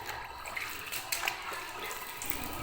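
Rinse water pours and drains steadily from a freshly washed blanket, a continuous close splashing trickle with no voices.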